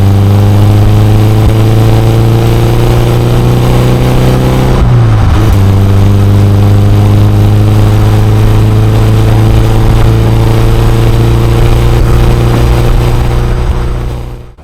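A BMW 2002 Tii engine roars loud and close in a steady, droning rev, its pitch dipping briefly midway as if shifting before holding high again, then cutting off at the very end.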